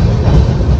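Kanchankanya Express 13149 running through tea gardens near Siliguri, a steady loud low rumble of wheels and carriage with continuous rolling noise, close and without a break.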